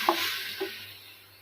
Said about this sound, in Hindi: ये देखिए हमारा मसाला अच्छी तरह से भून गया है।